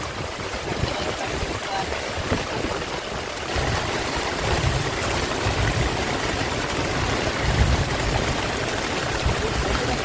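Steady, dense wash of heavy monsoon rain in the Sundarbans, a continuous hiss with low rumbling underneath that swells slightly partway through.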